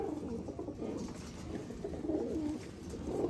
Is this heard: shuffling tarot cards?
no